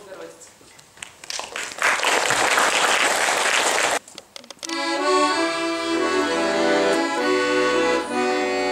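Audience applause rises into a dense burst of clapping at a children's concert for a few seconds, then cuts off as music begins playing.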